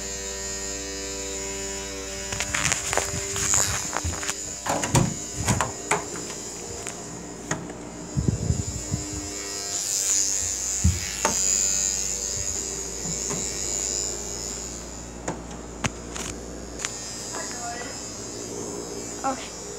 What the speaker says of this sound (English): My toothbrush.